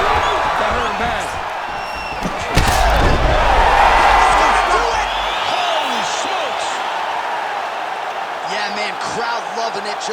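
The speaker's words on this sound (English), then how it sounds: "Crowd loving it." Arena crowd roaring and cheering after a knockout finish in the EA Sports UFC 5 video game, Jan Blachowicz versus Carlos Ulberg, a dense sustained roar with a sharp impact burst near the middle and commentary over it.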